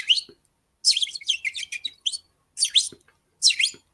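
Short bursts of bird chirps and tweets in four separate clusters, bright and fairly close, with brief silent gaps between them and no talk.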